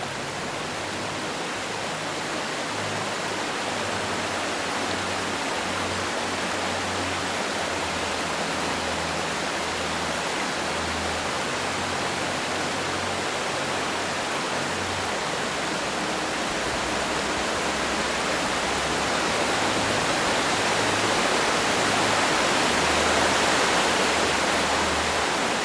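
Several waterfalls plunge more than 1,000 feet into deep water in a fjord cove, making a loud, dense, continuous roar that swells slightly toward the end, with no voices.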